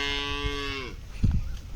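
A cow moos once at a farm beside a forest, a long, loud, close tonal call that falls in pitch and fades. Soft rustling and low thumps follow.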